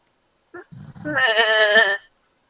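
A goat bleats once, a short harmonic call preceded by a few brief rustling thumps, close and loud against an otherwise quiet background.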